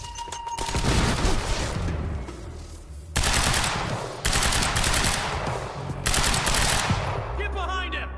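Gunfire in the shooter Quantum Break: dense, loud machine-gun bursts in several long volleys broken by brief pauses, with a voice shouting at the end.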